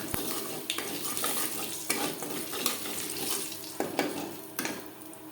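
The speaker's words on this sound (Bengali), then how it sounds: "দশ পনেরো সেকেন্ড জিরে ভেজে নেওয়ার পর" Cumin seeds sizzling softly in hot oil in a kadai, a continuous crackling hiss broken by occasional clinks of a utensil against the pan.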